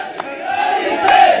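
Festival crowd at the Dongrya Dev celebration in the Khandbara area, a dense sustained roar of voices rising in waves with a couple of louder shouts breaking through, fairly loud and continuous throughout.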